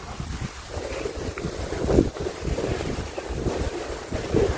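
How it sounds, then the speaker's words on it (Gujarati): Strong storm-like wind gusts and buffets hard against the microphone in a rough, uneven roar that swells and eases, with no voices. "વાવાઝોડા જેવો પવન છે"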